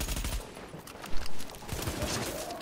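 Rapid gunfire in The Division at the Hudson Refugee Camp, dense bursts of shots and booming impacts filling the whole stretch at close range, with no voices over it.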